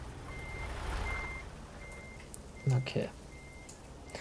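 A truck reversing in American Truck Simulator gives repeated evenly spaced electronic beeps, moderately loud over engine rumble, with a short spoken word and a couple of thumps partway through.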